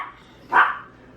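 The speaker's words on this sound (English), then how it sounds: "No, he's just barking." One dog gives a single short bark, moderately loud and close, in a quiet kitchen with faint room noise around it.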